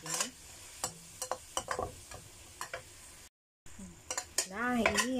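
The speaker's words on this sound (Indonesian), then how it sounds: "lanjut kita aduk, kita ungkep sebentar kacangnya supaya empuk ya." Long beans and chicken braise in a pan while a utensil stirs and scrapes in a series of sharp clinks and knocks over a soft sizzle, with a brief gap of silence before scraping resumes.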